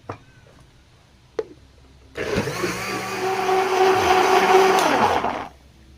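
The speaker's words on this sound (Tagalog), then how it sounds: "And then blender po natin ulit." A blender grinding bitter gourd with water starts up after a couple of faint knocks and whirs loudly for about three seconds, its pitch shifting as it runs, then winds down.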